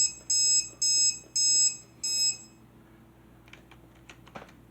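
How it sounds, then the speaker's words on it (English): A wheelchair's reversing backup horn gives four evenly spaced high electronic beeps, each about a third of a second long, loud and close, followed by faint clicks and rustles. "My wheelchair's horn."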